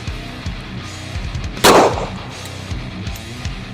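A single sharp, loud gunshot from a Springfield XD-M pistol cracks out midway, standing clearly above quiet background rumble and fading quickly.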